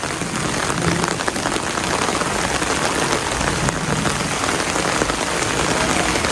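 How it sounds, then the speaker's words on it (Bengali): Heavy rain pours during a storm in a village, a loud, dense, unbroken patter on surfaces close by that holds steady throughout, with no talking. "বাজারটা একটু উপভোগ করে আইগে বৃষ্টির মধ্যে"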